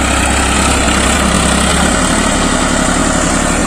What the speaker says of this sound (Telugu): వెంకటేశ్వరి గారు, మీరు ఇలా ట్రాక్టర్ తోలాలని ఎందుకు అనుకున్నారు?